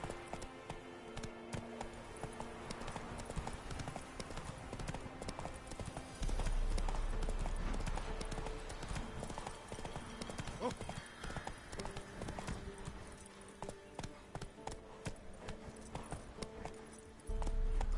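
Rhythmic clip-clop of a horse galloping in the video game The Witcher 3, a steady hoofbeat pattern running throughout amid other game sounds.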